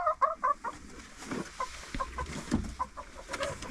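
Five baby chickens cluck in quick, close bursts, a few short calls overlapping in a busy, farmyard-like stretch.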